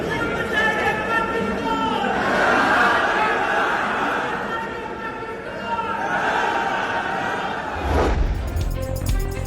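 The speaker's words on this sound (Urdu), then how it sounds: "وزیر اعلیٰ سہیل آفریدی کی بجٹ تقریر کے دوران شور شرابہ، نعرے بھی لگائے" Opposition members in a provincial assembly budget session raise a loud, continuous clamour of shouting and chanted slogans, a dense crowd roar that swells and dips with a sharp bang near the end.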